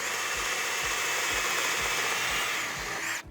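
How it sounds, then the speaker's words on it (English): Power drill boring a pilot hole through Dock Edge+ dock edge material, a steady loud whirring drone with faint rhythmic low thumps, cutting off abruptly at the end. "drill until the tip gets through the other side"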